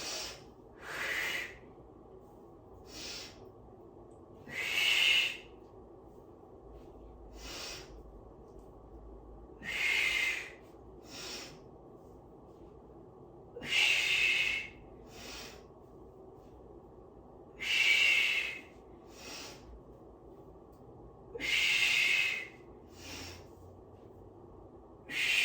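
Forceful rhythmic breaths during an arm workout, roughly a dozen loud hissing exhales and inhales in a steady cycle, close to the mic over a low room hum.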